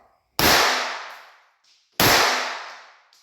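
Two sharp, loud shots from a Walther .22 pistol during ammunition testing, about a second and a half apart, each cracking hard and then ringing out in a long decaying echo, with no talking.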